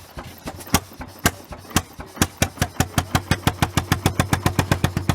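A restored antique gas engine at a crankup show fires in sharp, loud exhaust pops, slow and uneven at first, then quickening into a steady rapid beat as it comes up to speed.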